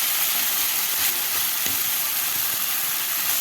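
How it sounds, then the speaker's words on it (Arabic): Onions sizzle and crackle steadily in a frying pan while being browned, with a loud continuous hiss and a few sharper pops. "لازم البصله تبقى متحمره عشان تديكي طعم حلو كده"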